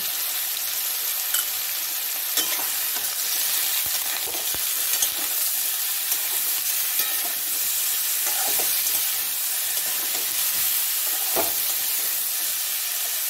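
Raw jackfruit pieces fry in a pan with turmeric and salt, giving a steady, close crackling sizzle that runs without a break, with a few soft scrapes of stirring and no voices.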